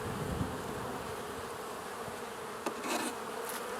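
Honeybees buzz around a backyard hive, a steady close insect drone with a few louder individual bees passing near.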